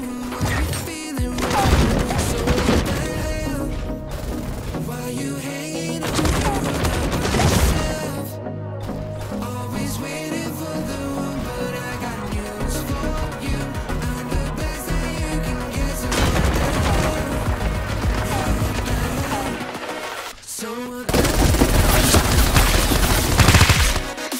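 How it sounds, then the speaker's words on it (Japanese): Bursts of rapid gunfire and heavy blasts recur in the video game Super Mecha Champions over a droning electronic backdrop, loud and dense, with brief lulls between volleys. "銃声が聞こえた"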